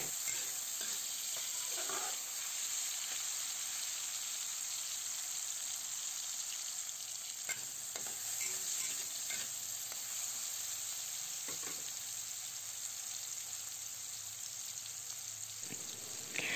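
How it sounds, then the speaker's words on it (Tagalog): Sliced tomatoes sauté in a pan for dried anchovies cooked with oyster sauce, producing a continuous faint sizzle with occasional soft stirring scrapes and no talking. "Ilagay na natin ang hiniwang kamatis. Gisayin lang natin yan hanggang sa lumambot na ang kamatis."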